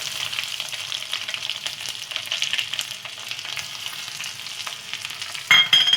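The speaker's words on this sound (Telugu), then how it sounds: "ఇలా వేగాక స్టవ్ ఆఫ్ చేసుకొని ఎల్లిపాయలు వేసుకోవాలి" Garlic sizzles steadily in hot oil in a pan for an amla and green chilli pickle, a continuous close crackle with a sharper burst near the end and no talking.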